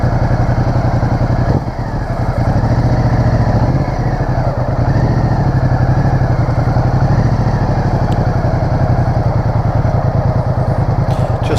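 A 2015 Ducati Multistrada DVT motorcycle pulls a slow feet-up U-turn, its engine a close, steady, throbbing low-speed chug with slight rises and dips and faint mechanical clatter throughout.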